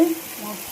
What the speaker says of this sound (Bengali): মশলায় তেল ছেড়ে দিয়েছে